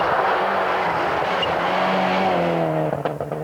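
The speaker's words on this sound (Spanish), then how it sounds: "Fíjate este coche cómo viene." Rally car at speed on a snowy stage of WRC Sweden 1996, its engine a loud, sustained roar with changing pitch as it passes, ending in sharp irregular bursts.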